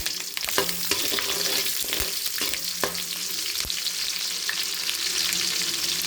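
Mustard and fenugreek seeds, onions and green chillies frying in oil for a tuna fish curry, a busy close sizzle with scattered sharp pops and stirring clatters throughout.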